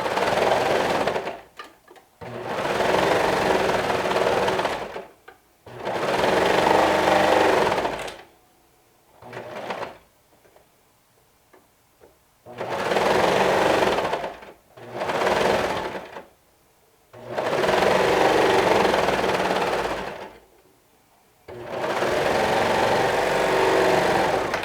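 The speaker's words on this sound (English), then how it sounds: "I'm stitching with a 1/2 inch seam allowance" Sewing machine stitching a seam on a cardigan, several long loud bursts of rapid whirring broken by pauses and short starts, close up with no talking.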